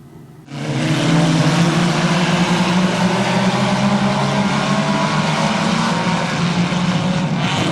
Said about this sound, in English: So around goes the 8 car, McLean.